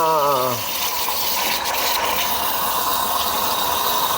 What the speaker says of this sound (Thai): ไม่ต้องแล้วเดี๋ยวมันจะออกมาเป็นน้ำ